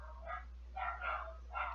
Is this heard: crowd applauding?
no